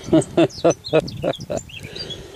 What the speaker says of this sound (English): Oh, wood pigeons over there, I can hear.